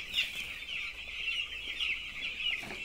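Vaccinated poultry birds crowded in divided pen compartments cluck and chirp, a steady cluster of close, bright calls running through the whole moment.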